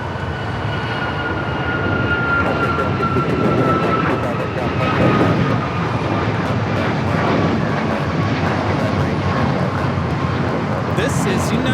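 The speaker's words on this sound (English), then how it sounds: "This is United Airlines 8169 taking off on a MAX 9 somewhere." A United Airlines Boeing 737 MAX 9 takes off at LAX, a loud sustained jet roar that builds and holds steady with a faint whining engine tone running through it.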